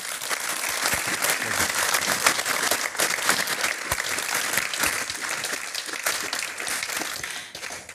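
Dense, even applause from a lecture audience in a formal hall, a steady wash of many hands clapping that holds for several seconds before tapering slightly at the end.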